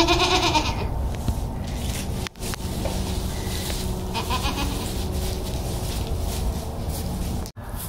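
Goat bleating steadily and close by on a farm, with a mother goat among the herd, the calls overlapping in a continuous loud chorus with a couple of brief dropouts.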